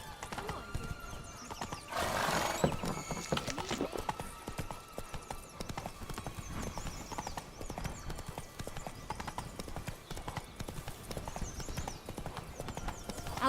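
Roach, the horse in a Witcher game's Blood and Wine adventure, gallops with a rapid, continuous hoofbeat rhythm, and a loud neigh stands out near the start; the sound stays moderately close throughout.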